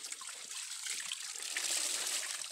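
Water runs freely at an outdoor washing spot in the countryside, a steady, close splashing trickle that stays level and unbroken throughout, with no talking.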